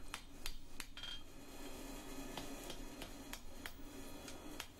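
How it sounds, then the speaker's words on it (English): A hammer taps metal while straightening and lining up a forged metal cross made to hold a marble, a series of sharp, irregular light strikes over a faint background hum. "change my hammer,"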